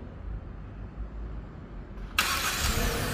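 A GAC GS3 Emzoom engine fires up by remote start after a few seconds of quiet background, turning over abruptly and settling into a loud, close idle.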